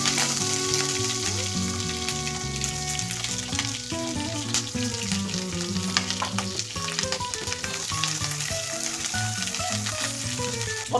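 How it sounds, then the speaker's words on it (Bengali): Potatoes and two small brinjals fry in a little oil, a steady close sizzle and crackle running without pause under loud background music, with no talking. "আলু আর ছোট 2টা বেগুন আমি তেলের মধ্যে ছেড়ে দিলাম। এখন এটা ভাজবো আমি তেলের মধ্যে।"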